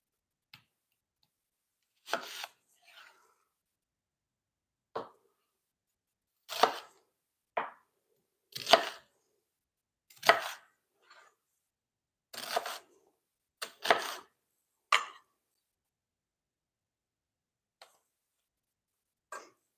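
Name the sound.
chopping an onion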